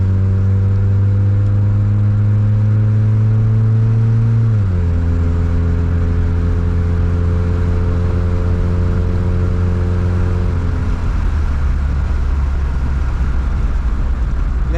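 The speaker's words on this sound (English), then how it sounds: "I have a pipe on here, so it's loud." A 1993 Honda Accord with an aftermarket exhaust pipe drones loud and steady from inside the car, dropping in pitch as it shifts gears and then settling as it slows.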